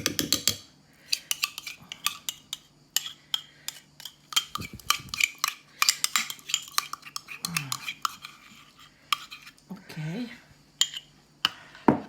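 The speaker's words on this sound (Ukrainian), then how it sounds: "Добре перемішуємо, дуже добре перемішуємо" Cold soup being stirred in a pot, with repeated metallic clinks and scrapes of a utensil against the pot in an irregular rhythm, close and fairly loud, with brief voice sounds in between.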